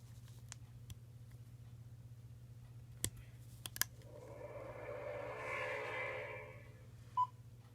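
An unsilenced Laser X toy laser tag gun clicks a few times, then lets out a rising burst of electronic noise and ends on a short sharp beep, fairly quiet and alone.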